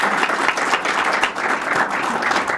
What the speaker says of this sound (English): can we give a really big round of applause for Deemah?